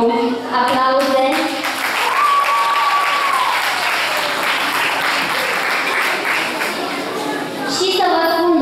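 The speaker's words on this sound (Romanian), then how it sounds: "Prima interpretă este Ioana Negloiu. Aplauze!" Festival crowd at a folk music contest applauding a performer, loud continuous clapping from many hands, with a presenter's voice heard at the start and end and a brief tone rising over the middle.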